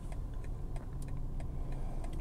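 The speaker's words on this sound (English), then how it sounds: "put it in reverse, and the car is parking itself" BMW 218i Gran Coupe backing into a small parking space under automatic park assist, a steady low engine and road rumble with faint ticking and light mechanical clicks, close and continuous.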